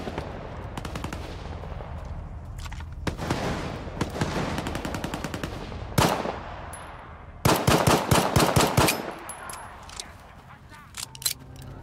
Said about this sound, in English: More shots up ahead.